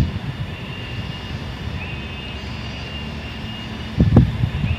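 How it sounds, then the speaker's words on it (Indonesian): A rice threshing machine engine drones steadily in the background, a continuous low rumble with a faint tonal whine, joined near the end by a brief louder knock close by. "mohon maaf kalau berisik suara mesin karena lagi ada"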